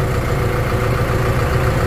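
A New Holland 7630 tractor with an FPT NEF engine idles close by, a steady low diesel rumble that holds even and unbroken throughout.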